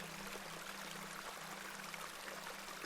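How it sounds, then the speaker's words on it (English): Small beck flowing steadily in The Excavation of Hob's Barrow game, a soft continuous trickle and wash of water heard alone at low volume with a faint low hum beneath. "This is a lovely little beck."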